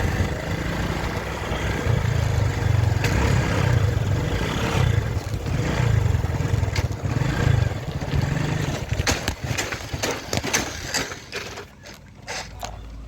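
A motorbike rolls slowly along an unpaved village dirt road, its low engine rumble steady and close for most of the ride, with rattles and clatter from the rough track breaking in toward the end as the engine fades.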